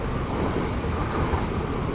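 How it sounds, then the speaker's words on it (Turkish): A train passes near a lake in a German forest, heard as a steady, loud rumbling roar that fills the short span without pause. "tren geçiyor"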